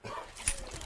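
A recorded dog bark played back through a speaker during a sound test, heard as a brief yip or bark burst near the middle over steady background hiss.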